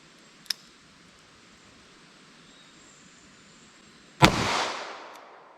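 A single sharp, loud gunshot from a snub-nose revolver firing 9mm +P Cor-Bon Pow'R Ball ammunition rings out with a lingering decaying tail, preceded by a faint, brief click several seconds earlier.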